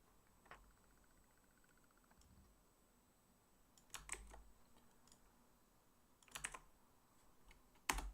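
Keystrokes on a computer keyboard in a quiet room, a few sparse bursts of clicking and tapping with long pauses between them, close and fairly soft, no talking.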